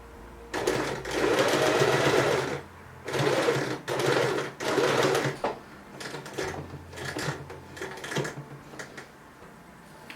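Sewing machine stitching a bow onto a Lolita fashion cutsew, loud close whirring runs in several bursts separated by short pauses, later runs slower and choppier.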